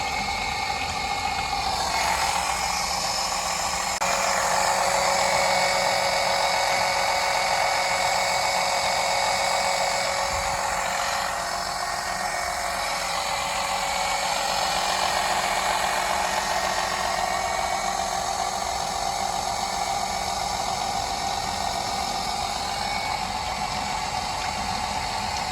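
A cheap oil extractor pump runs steadily, drawing dirty engine oil out of a car in a continuous whining, hissing drone that holds even and loud throughout, with no voices.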